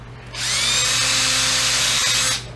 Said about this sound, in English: drill that glue out of there.